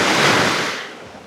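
A single wave rushes and washes in near Satonda island in Indonesia, a loud, close surge of broadband noise that fades away within about a second.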